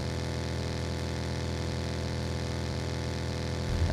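A car engine in a video game, running with a steady low drone and a constant even hum from start to end, with a faint bump right at the close and no talk.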